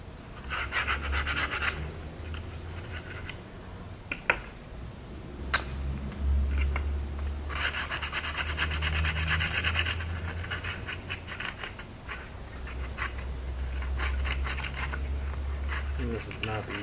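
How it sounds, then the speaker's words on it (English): Sandpaper rubbing on a handmade form for a keg furnace, repeated close scratchy strokes in bursts with short pauses and a few knocks, no talk. "I'm going to sand this up with some sandpaper and see if I can't make that stuff fit"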